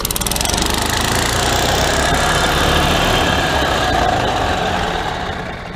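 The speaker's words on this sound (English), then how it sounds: "Our old clunky golf cart is up and running." A Yamaha golf cart engine running after a secondary clutch replacement: a loud, steady, close-up idle with a rapid knocking pulse that never breaks, and no talk over it.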